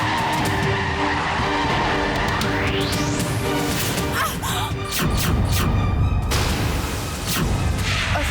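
A car skids in a staged road accident, its tires squealing loudly and continuously over a roaring engine and a rising whine, ending in a heavy thud and crash noise, all dense and close.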